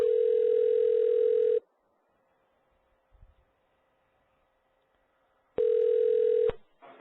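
A steady telephone dial tone on an open line during a prank phone call, loud and continuous for about a second and a half, then a quiet hiss with a faint thump, before the tone returns for about a second near the end.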